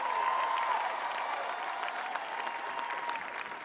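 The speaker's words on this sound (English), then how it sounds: "Give it up for Viola Davis, come on. Make some noise" A large audience at a public event for the Los Angeles mayor breaks into sustained, even applause, a dense wash of clapping from a big crowd that holds steady for several seconds without a speaking voice.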